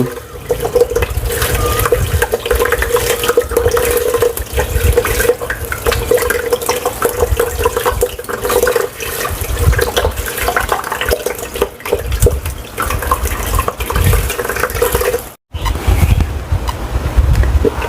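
Beef offal is washed piece by piece under a running kitchen tap, the water splashing and gushing loudly and steadily at close range, with one brief pause near the end.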